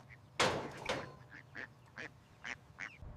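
Ducklings near a bridge give a series of short, faint quacking calls, about six spaced bursts after one louder rustling burst, heard against a quiet outdoor background.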